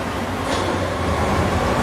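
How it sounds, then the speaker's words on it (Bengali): A used non-hybrid car running on octane revs its engine in a brief, loud, steady rumble that rises slightly toward the end, close by and without talk. "আমি ইঞ্জিনটা একটু উড়ে দেখাই দিই"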